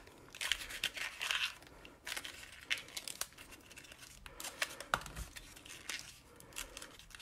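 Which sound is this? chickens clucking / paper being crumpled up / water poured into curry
paper being crumpled up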